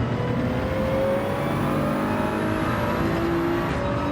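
A Toyota Supra race car in Gran Turismo 7 holds a steady, loud engine drone with a faintly rising pitch under a gradual upshift, continuous and close throughout with no talking.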